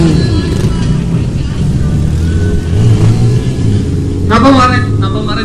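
Stunt motorcycle at an outdoor stunt show, its engine droning and briefly revving near the end, mixed with crowd noise and an announcer talking over a loudspeaker.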